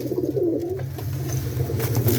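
A performer pigeon in a home loft gives a soft, low throaty coo, a short rolling burble heard close and fairly quiet with no talking over it.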